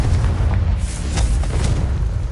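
A Confringo fire spell explodes in Hogwarts Legacy, a loud sustained booming blast with rumbling low-end fire that carries through the whole moment without pause.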